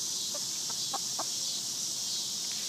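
A few chickens give short, faint clucks on a farm. The scattered calls are soft against a steady background hiss, and no voices are heard.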